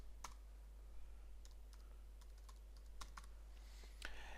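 Light, irregular clicks of a computer keyboard as a short category name is typed into a Joomla 3.2 content form, quiet and close with scattered keystrokes and no voices.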